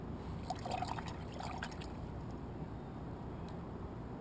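Fiddleheads are swished by hand in a basin of water, giving soft sloshing and trickling sounds with a few light splashes over a steady low background.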